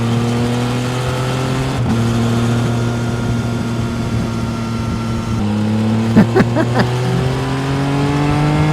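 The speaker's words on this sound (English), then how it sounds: "Even a cold, semi-wet day is a good day when you're riding a brand new motorbike." A 2024 Triumph Trident 660 motorcycle engine hums steadily while being ridden on a cold, semi-wet day. Its tone rises and falls briefly through gear changes, with loud, continuous engine noise and no talk.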